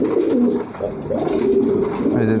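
A pet pigeon coos close up in soft, low, repeated throaty calls that run steadily and alone, with no talk over them.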